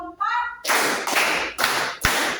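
A group clapping in a clap-counting game, a brief voice first, then four sharp, loud claps spaced roughly half a second apart, each ringing briefly before the next.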